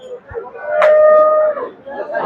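A cow at Hazratpur cattle market gives one loud, drawn-out moo lasting about a second, close by, with faint market noise around it.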